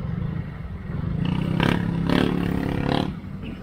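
A new motorcycle's exhaust muffler with its catalytic converter still fitted, giving a tinny, can-like rasp; a loud close revving engine swells in three bursts over a steady idle rumble.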